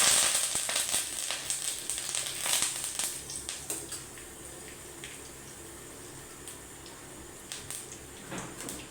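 Curry leaves and whole cardamom pods dropped into hot oil for masala rice crackle sharply at first, then settle into a steady, softer sizzle with occasional pops; no voices.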